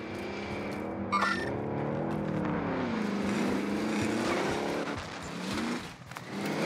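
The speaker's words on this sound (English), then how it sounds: "Enemy vehicle. Enemy vehicle." An enemy vehicle in the shooter game Warzone drives nearby, its engine droning and rising and falling in pitch over steady game noise, with a brief electronic chirp early on.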